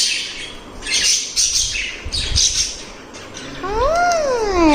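New pet birds chirp and squawk indoors, sharp calls scattered across the clip and ending in a loud, sweeping call near the end.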